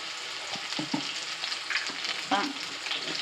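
Mustard seeds, fenugreek and shallots fry in a hot pan for a Kerala curry, giving a steady sizzle with scattered crackles and pops, close and clear with no talking.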